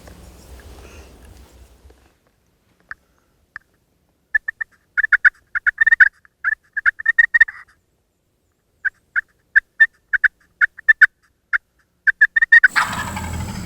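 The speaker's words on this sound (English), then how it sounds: "Gobbled again, he's getting closer" Repeated wild turkey gobbles ring out in short bursts and rapid strings during a turkey hunt, fairly distant yet clear against a quiet background, ending in a burst of rustling noise.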